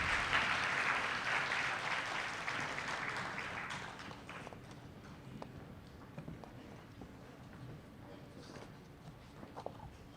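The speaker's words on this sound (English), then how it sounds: "Let's applaud them as they're going to their seats, guys" Applause at an arts complex anniversary gala as honorees return to their seats, a burst of clapping that is strongest at first and fades away, leaving scattered taps and footsteps in a quiet room.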